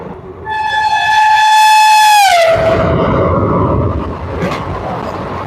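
The 13142 Teesta Torsha Express, running from Alipurduar to Sealdah, sounds a loud, sustained horn blast that bends downward as it ends, then gives way to a heavy, steady rumble of rolling wheels and carriages.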